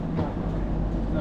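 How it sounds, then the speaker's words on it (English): A train rumbles in with a deep, continuous low-frequency roar and wheel noise, close by and steady throughout, while someone speaks over it. "the train is here"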